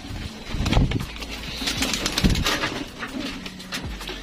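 Breeder hen pigeons in a loft coo and rustle nearby, with a low engine hum in the background and brief thumps.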